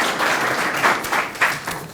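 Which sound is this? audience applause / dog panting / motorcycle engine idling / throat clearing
audience applause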